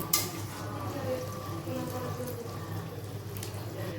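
Water poured into a pot of oats khichuri, a steady close splashing pour running the whole time under faint background noise.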